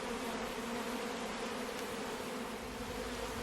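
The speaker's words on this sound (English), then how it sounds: "the bees are definitely like freaking out right now" Agitated honey bees buzz loudly at an opened hive during a bare-handed honey harvest, a dense continuous drone with no pause and no voices.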